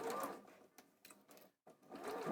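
A sewing machine stitches a quarter-inch seam on a quilted pinwheel block in short close bursts of rapid needle chatter, with a brief pause midway.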